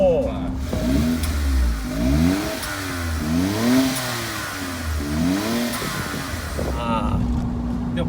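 Honda S660 engine revving with a newly fitted HKS muffler, the pitch rising and falling in several repeated sweeps under steady conversation inside the car.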